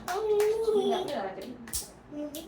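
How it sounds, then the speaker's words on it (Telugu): Hand clapping during a family game at home, a few sharp claps under a child's and adults' lively chatter, fairly close. "అమ్మ క్లాప్ చేయండి."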